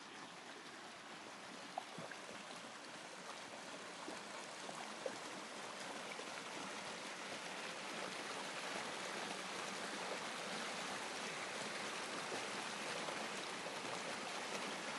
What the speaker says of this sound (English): We can hear the sound of running water there.